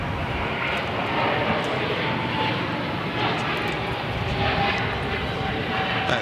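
A Boeing 777 passes at LAX airport, its jet engines producing a broad, steady roar that swells slightly and stays loud throughout, with a few faint background knocks and no clear speech.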